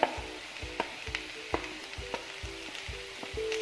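Chopped tomato and capsicum stir-fry in a pan for a chicken fajita pocket sandwich, a soft continuous sizzle broken by regular spatula stirring knocks and scrapes, with no voices.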